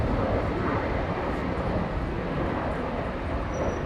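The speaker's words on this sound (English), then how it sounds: "One of now 4 daily A350 services from Singapore Airlines." A Singapore Airlines Airbus A350 at Brisbane Airport gives off a loud, steady broadband jet roar that holds without a break for the whole stretch.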